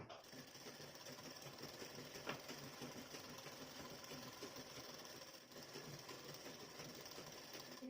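A sewing machine stitches the lower side of a boat-neck blouse, a faint, steady rapid whir running continuously with slight dips in pace.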